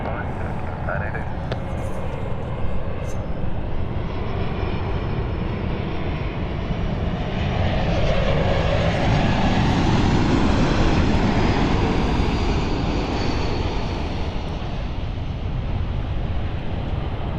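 KLM flight 988 departs London City Airport, a loud, broad engine roar that swells and holds steady across the whole stretch, with a faint voice briefly heard early on.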